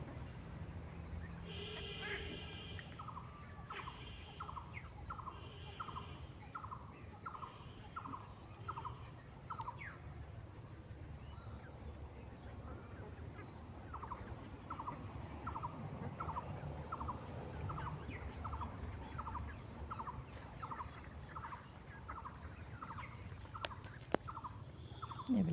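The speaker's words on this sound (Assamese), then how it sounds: "এইবিলাক হাঁহ ৰাখি আছোঁ, সৰু সৰু পোৱালি আছে।" Ducks and small ducklings in a rural backyard give a long series of soft, rhythmic repeated calls, fairly faint and set against steady background noise.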